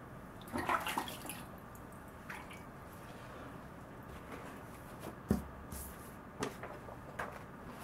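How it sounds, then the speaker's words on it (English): Water runs faintly while a freehand-sharpened Yoshikane petty knife and its sharpening stone are washed, with scattered soft splashes, drips and light knocks close by. "So I'm going to wash the knife and the stone."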